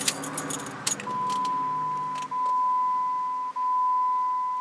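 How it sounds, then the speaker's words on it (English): Keys jangle briefly in a car's ignition, then the ignition is switched on and a steady electronic tone sounds continuously over a faint hum, broken by two short dips, as the fuel pump primes. "What you do now is you turn the ignition on."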